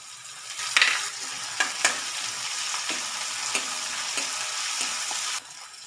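Onion and tomato fry with spices in a pan for a fenugreek leaf (methi) curry, a loud continuous close sizzle with a few sharp crackles and stirring scrapes, with no talking.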